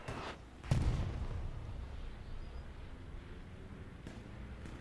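Artillery shell blasts in Hell Let Loose, a faint distant boom early on followed by a low rumbling tail and a softer second thump later, all under a quiet background with no talk.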